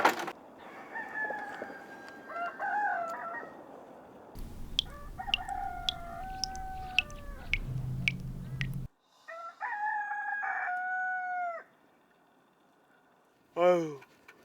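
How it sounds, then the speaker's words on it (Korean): Several roosters crow in turn, loud drawn-out cock-a-doodle-doos with brief clucking between calls, separated by abrupt cuts and near-silent gaps, with a faint voice in the background. "근데 닭들이 새벽 2시부터 울기 시작해요"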